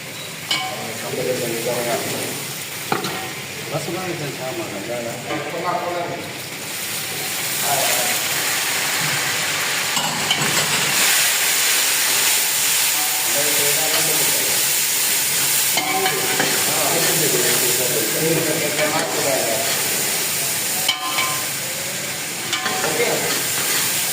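Garlic and onion fry in a pan while being stirred, giving a continuous loud sizzle and hiss with scraping stir sounds throughout.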